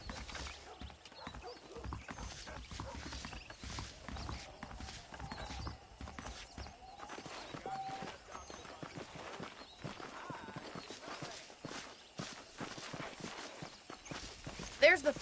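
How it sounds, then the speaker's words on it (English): Horse hooves clip-clop at a walking pace, steady and fairly close, while people talk over them; saddled horses in the video game Red Dead Redemption. "The horses are saddled up over here."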